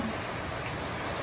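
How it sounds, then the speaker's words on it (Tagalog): Dense, steady hiss of heavy typhoon rain pouring down in La Union, a continuous even wash of sound with no voices. "Ang lakas pa rin ng ulan"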